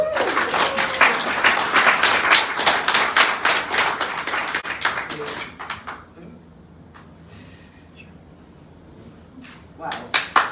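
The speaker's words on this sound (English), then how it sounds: "Round of applause, everybody." An audience at a Dominican cookbook launch claps loudly for about five seconds, then the applause fades into quiet murmuring with a few scattered claps near the end.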